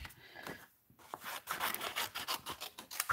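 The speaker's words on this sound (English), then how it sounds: "now get my scissors and we're going to cut these out" Scissors cutting out paper card pieces for a cupcake card: a quick run of close, raspy snipping and rubbing strokes after a brief pause, moderately loud with no talk.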